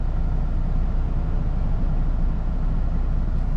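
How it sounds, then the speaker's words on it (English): Road traffic runs past a truck stop along Route 322 as a continuous loud, low rumbling roar with a steady broadband wash, no distinct individual passes. "A lot of traffic."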